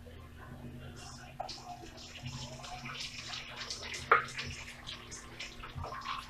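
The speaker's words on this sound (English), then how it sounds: "The next step we do is we'll pour the water off or strain it." Water sloshes and pours as blended cassava is strained, a close, splashing trickle with small drips and clatters, including one sharp knock, under soft background talk.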